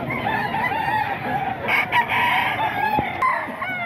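A rooster crows loudly and close at a Bocaue flea market poultry stall, its drawn-out call rising over steady crowd noise, with other fowl clucking nearby.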